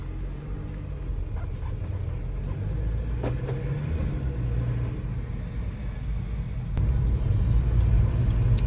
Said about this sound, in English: we're still driving the car